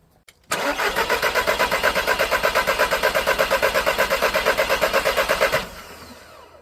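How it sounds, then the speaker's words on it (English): Audi TT 8N with a 1.8T engine cranking on the key without catching: a sudden start into about five seconds of rhythmic, pulsing starter churning, then an abrupt stop. "So battery's on, just give it a little turn."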